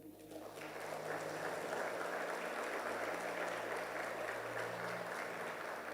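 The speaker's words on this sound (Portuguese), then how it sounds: "Vamos aplaudir Jesus por isso?" Church congregation applauding during a Portuguese-language sermon on discipleship, a steady broadband wash of clapping that builds within the first second and holds at a moderate, even level with a faint low hum beneath.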